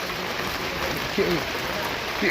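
Heavy rain falls steadily as a dense, even wash at a market stall before a Lakshmi Puja festival, with voices heard faintly in the background.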